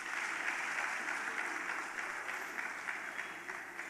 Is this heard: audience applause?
yes